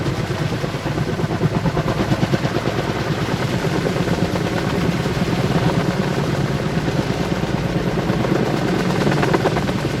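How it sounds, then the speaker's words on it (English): Steady, loud rotor chop of a helicopter throughout, a continuous pulsing thrum with rumbling engine noise, no voices. "Never seen a helicopter like that before either."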